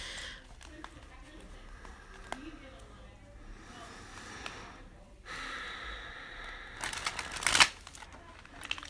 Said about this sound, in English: Okay, so I want to give it a few more shuffles.